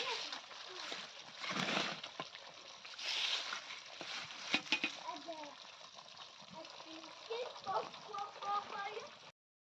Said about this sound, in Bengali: চিকেন হলো ভাজতেছি তো আমার প্রায় কিছু কিছু চিকেন ভাজা হয়ে গেছে